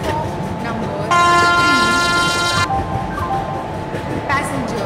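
Train arriving at a platform in an Indian Railways train simulator game, with a WAP7 electric locomotive between Bharuch and Vadodara: steady rolling rumble, a loud sustained horn blast for about a second and a half, and background station sounds.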